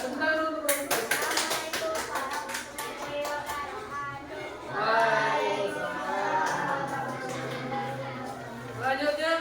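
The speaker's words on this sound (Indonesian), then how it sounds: "Tepuk tangan untuk kelompok Raisa." A classroom of students bursts into brisk applause for a presenting group, a rapid patter of many hands that soon fades under chatter and voices in the room.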